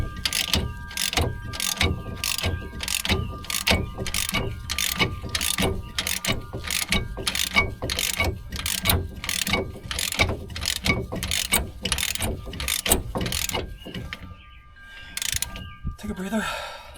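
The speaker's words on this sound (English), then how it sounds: "this is the biggest ratchet I got" Large ratchet wrench clicking steadily while working a hub bearing on a 2011 Mazda 3, loud and close, with rapid regular metallic pawl clicks in long runs that break off near the end with a brief scrape.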